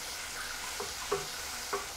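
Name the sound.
stirring tomato paste into frying mushrooms, garlic and onion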